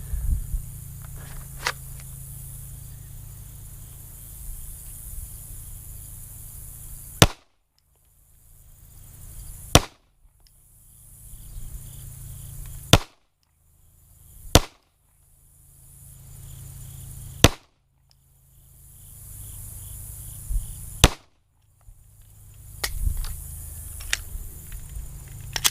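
A Glock Gen 5 pistol fires a string of rounds during range testing. Six sharp, loud reports ring out at uneven intervals, each followed by a brief ring-out, with quiet gaps and faint handling noise in between.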